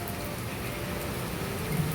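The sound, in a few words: heavy rain falling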